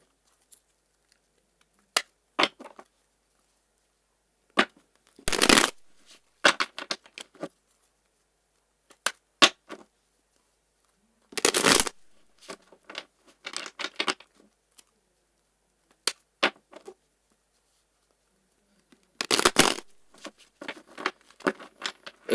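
Tarot cards are shuffled by hand in irregular bursts, with soft riffles, crisp snaps and quiet pauses between, close and fairly faint.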